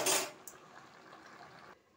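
Metal kadai set down on a home kitchen stove while cooking ichor chingri (jackfruit with prawns): one loud clanking clink at the start, a small tap just after, then a faint ringing tail.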